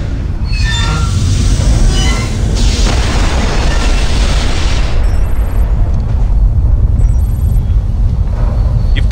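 A catastrophic chain-reaction explosion in the James Bond 007: Blood Stone video game: a loud, sustained roaring rumble with heavy low-end booming and crackling debris that runs unbroken for several seconds and thins slightly toward the end.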